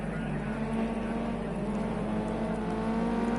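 Ginetta GT5 race cars in Project CARS 2 at Oschersleben produce a steady, dense engine drone as the pack gets going, with several engines blending into one continuous hum.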